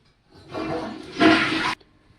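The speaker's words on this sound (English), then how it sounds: "Flush the potty." A toilet flushes once with a loud rushing gush of water that builds, surges to a peak, then cuts off abruptly, followed by near silence.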